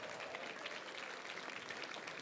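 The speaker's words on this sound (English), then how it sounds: "Give them a big round of applause." Sustained audience applause at a 2017 NATAS Northwest awards ceremony honoring a high school basketball championship team, a dense steady wash of many hands clapping at even loudness throughout.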